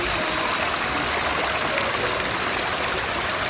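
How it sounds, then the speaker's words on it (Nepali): Water rushes continuously down the man-made river and waterfall at Katara Cultural Village in Qatar, a steady, dense, close-up flow with no voices over it. "यो पानी बग्दै बग्दै बग्दै गएर फेरि तल सिधै यो मुनि निक्लिन्छ"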